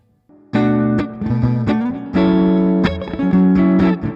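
A Gibson Les Paul Studio electric guitar played through an amp on a clean tone rings out in a quick series of plucked notes and chords, close and loud with no talking.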